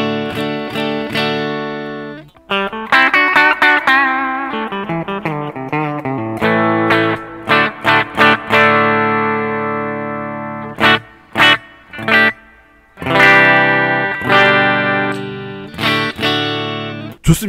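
Corona Standard ST electric guitar played through its bridge humbucker pickup, with effects on the tone: sustained chords and picked single notes alternating with sharp muted stops and short gaps, loud and alone.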